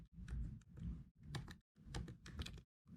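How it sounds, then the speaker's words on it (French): Fingers typing gently on a computer keyboard with removable keys, soft clicks in short close bursts separated by brief silent gaps. "Voilà, je tape"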